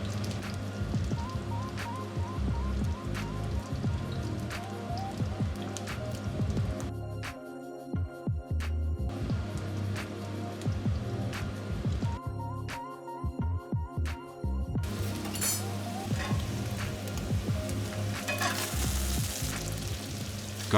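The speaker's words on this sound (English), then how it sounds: "Adding butter to flat-bottomed iron pan." Butter and a little oil sizzle steadily in a flat-bottomed iron pan on the stove, a continuous close crackle with faint pops and a low hum running throughout.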